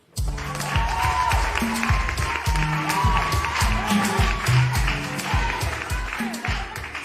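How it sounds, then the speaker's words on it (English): Studio audience applauds a TV talent-show contestant named Hackman as he is introduced, steady sustained clapping and crowd noise with music playing underneath throughout. "Our next contestant, a round of applause for Hackman."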